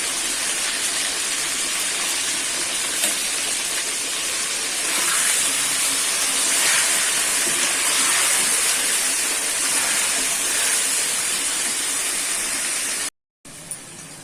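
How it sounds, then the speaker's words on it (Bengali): Potatoes fry in a pan with a loud, continuous rain-like sizzle lasting over twelve seconds, broken by a brief drop-out near the end. "আমার আলুটা ভাজা হয়ে গেছে। এবার নামিয়ে দেব।"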